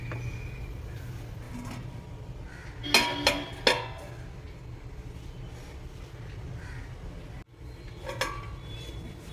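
A lid goes onto a cooking pot while sojjiyappam is being made. A few bright metallic clinks ring out close over a steady background hum, followed later by a fainter clatter.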